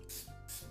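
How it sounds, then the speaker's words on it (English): Baking spray with flour in it is sprayed onto a madeleine pan in two quick close hissing bursts, with a faint mechanical click between them. "I like using just this baking spray because it has flour in it"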